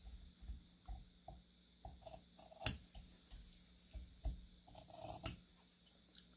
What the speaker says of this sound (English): notching are just little V-shaped cuts in your seam allowance